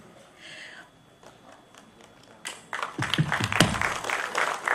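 An audience at a book event for Raghu Karnad's Farthest Field bursts into applause to welcome a guest. Faint scattered claps come first, then dense clapping breaks out loudly and carries on.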